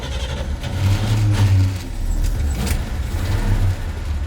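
A column-shift car's engine starts up and settles into a low, rough idle with a couple of short revs, close and loud, and no one speaks.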